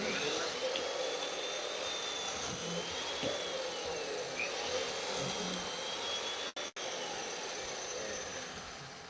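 A Makita chain mortiser cuts a mortise, its motor and chain giving a loud, continuous high whine with a shifting pitch that breaks off for two brief dropouts before running on.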